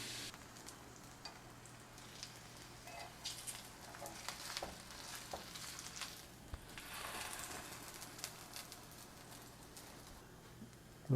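Flour tortilla-wrapped arayes, a Lebanese street-food meat snack, grill face down in oil under a press weight, giving a faint, steady, close sizzle that hisses evenly throughout with no voices.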